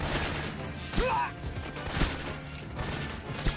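Video game gunfire in Metal Gear Solid 3 Snake Eater: several sharp shots at irregular intervals, about one per second, over a busy jungle game soundscape.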